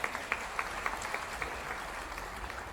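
Applause from an audience at a health festival event in Indore, fairly faint and distant, with a few sharper individual claps standing out over a soft continuous patter of many hands.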